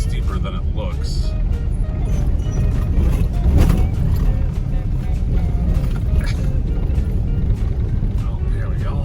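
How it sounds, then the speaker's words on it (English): A car climbing a steep hill at a Pennsylvania campground, its engine and road rumble steady and fairly loud throughout, with a brief swell in the middle. "as I'm driving up the hill here, and the hill is a lot steeper than it looks"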